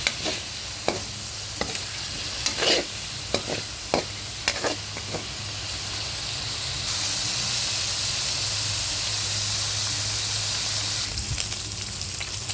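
Pork browning in a little oil for adobong sitaw, a steady loud sizzle with sharp scraping stirs early on, then a stronger, hissier fry that swells midway and keeps going without talk.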